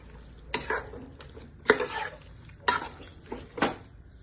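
A spoon working yogurt, salt, turmeric, mint and coriander into chicken biryani in a pot, four separate wet scraping strokes spaced about a second apart, close and fairly quiet.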